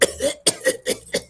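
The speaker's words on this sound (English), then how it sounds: "Tries to scream and coughs halfway through it." A rapid series of harsh, close coughs, about five in quick succession, loud and rough.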